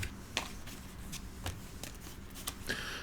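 Money and animal cards for the You're Bluffing! card game are shuffled together into a deck, giving quiet repeated riffles and soft flicks of the cards at close range.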